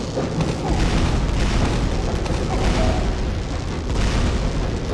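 A continuous roaring blast from a Team Fortress 2 weapon explosion during a match, dense and loud for the whole stretch without clear breaks.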